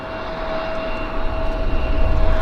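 An aircraft climbs out at Vancouver airport with a steady, loud engine roar that holds a constant whine and grows slightly stronger.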